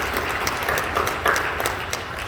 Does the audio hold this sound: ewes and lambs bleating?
no